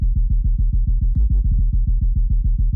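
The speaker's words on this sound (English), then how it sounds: "I used a serum to make this sub-bass." Choppy sub-bass made in the Serum synthesizer, pulsing in a rapid, even rhythm of short deep throbs, with a brief brighter flutter near the middle, loud and alone.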